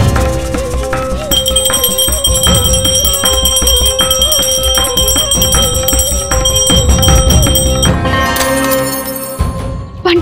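A bell rings repeatedly in a steady rhythm over a busy musical backing, with a louder clanging burst near the end.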